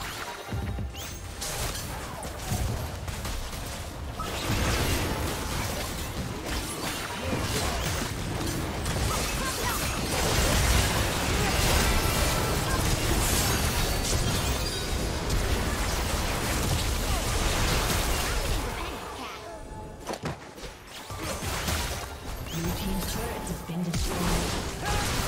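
Gangplank's Cannon Barrage ultimate in League of Legends, a long dense clatter of repeated cannonball impacts and crashes that rains down continuously for about twenty seconds, loud and close, with brief game voice cues mixed in.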